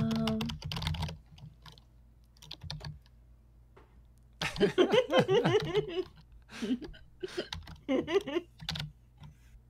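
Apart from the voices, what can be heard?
typing on a computer keyboard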